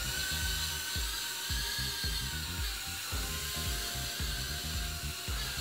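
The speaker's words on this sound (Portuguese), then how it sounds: "vou deixar aqui o droninho aqui e voar" A Lishitoys L6082 toy drone flies nearby, its small rotors making a continuous high-pitched whine with a steady rapid pulsing, alone and fairly quiet.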